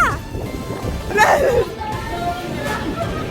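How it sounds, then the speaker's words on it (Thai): Rain falls steadily in Brussels outside an airport as a soft continuous hiss, with voices talking over it and faint background bustle. "คนเราเริ่มวันด้วย ฝนนะจ๊ะ"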